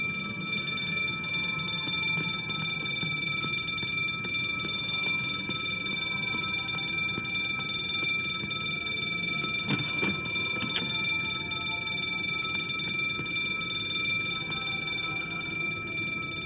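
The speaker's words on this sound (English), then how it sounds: "He's fiddling with the alarm" In the video game The Drifter, an alarm rings continuously at steady loudness, a bright sustained electronic tone layered over a low rumbling background, with a couple of brief sharper clicks partway through.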